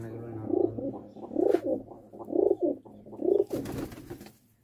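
Pigeons cooing in a steady rhythm, about five soft, throaty coos at regular intervals, close by and fairly clear.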